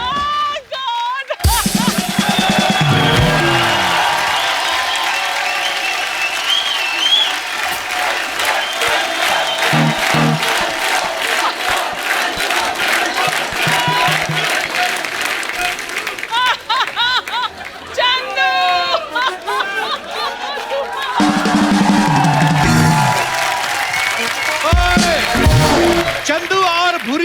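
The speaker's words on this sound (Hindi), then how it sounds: "चंदू और भूरी के लिए जोरदार तालियां।" A studio audience on an Indian comedy talk show claps loudly and continuously, a dense wash of applause with scattered cheers. The host's voice talks over the crowd throughout.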